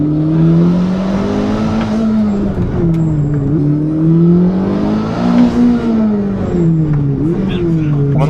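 A car engine idles and revs in slow rising and falling waves, close and loud, holding a steady throaty drone with occasional faint sounds over it.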